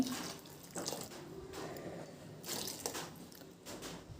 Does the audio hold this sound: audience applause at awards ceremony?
no